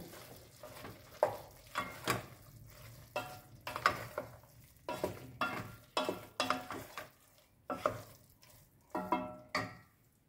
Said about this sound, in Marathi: आणि यामध्ये आपण ते नारळाचं जे वाटण आहे ते टाकूया, पुन्हा हलवून घेऊया.